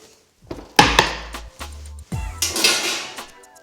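A raspberry coconut slice cake is flipped from a cake rack onto a wooden chopping board, giving several close, sharp wooden knocks and thuds with scraping, clattering handling between them and no talking.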